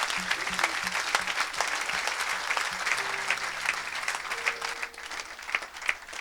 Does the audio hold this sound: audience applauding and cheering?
yes